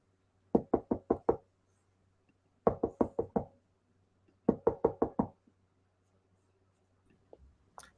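Three sets of five crisp knocks on a door, a radio comedy sound effect, are loud and close over near silence, followed by a faint brief rustle at the end.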